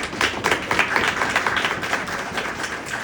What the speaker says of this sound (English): How about a round of applause for Jess?